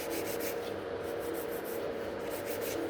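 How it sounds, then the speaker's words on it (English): A nail file rubs back and forth along the side walls of a gel nail extension on a tip, giving a soft, steady, rapid scratchy rasping close by with no talking. "Look where I'm filing."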